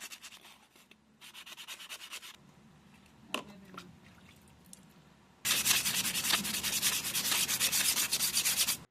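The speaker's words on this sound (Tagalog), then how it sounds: "Siyempre lihain na natin 'to hangga't mawala lahat ng kalawang." Sandpaper rubs rust off the center stand of a Honda Click scooter in bursts of steady scraping strokes, quieter at first with a few taps, then a long, loud, close stretch of rapid rhythmic sanding.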